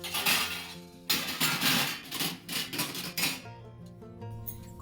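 Clattering and clinking as washed steel dishes and utensils from the night before are stacked in a home kitchen, a close, loud run of repeated metallic knocks with ringing tones.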